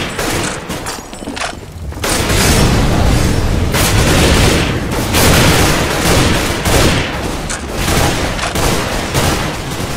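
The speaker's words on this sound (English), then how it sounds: "Flashbang." A flashbang grenade goes off in a video game with a loud, close boom after a quieter start. A dense roar of blasts and gunfire-like cracks follows and runs on for several seconds.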